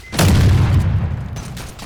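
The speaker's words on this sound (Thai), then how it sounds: "ผมปาระเบิดมั่วไปแล้วหนึ่งที" A grenade blast in the side-view battle royale shooter Side Bullet on PS5: one loud, close boom that hits hard and then rolls on as a long, rumbling decay, with no voice over it.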